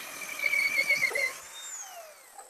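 A drill bit breaks through the last of a hole bored through a solid door while a digital touch lock is being fitted, whining steadily for about a second before spinning down and fading out.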